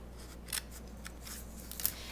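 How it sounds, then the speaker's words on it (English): Paper snips cut through cardstock for a mini pizza box: a few soft, brief snipping clicks, close by, over a quiet steady background hum with no talk. "Paper snips are so sharp, they're almost custom made for this little job."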